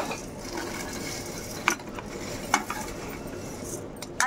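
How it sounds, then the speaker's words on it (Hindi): Homemade vermicelli roasting in hot oil, turned over and over in a pan, giving a continuous faint sizzle broken by a few distinct metal spoon scrapes and clinks against the pan, with no talking. "इनको थोड़ा सा सेकना है अल्टी पल्टी करके, सेक लेंगे थोड़े दो मिनट तक इसे अच्छे से।"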